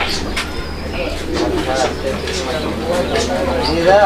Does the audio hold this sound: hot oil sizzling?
no